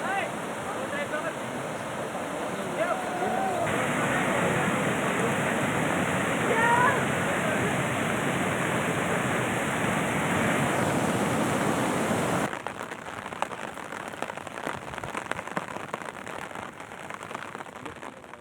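Cloudburst-like downpour near Jarandi in Soygaon taluka sends rivers and streams overflowing, a loud, constant rushing roar of rain and flowing water for about twelve seconds before it cuts to a thinner, quieter background.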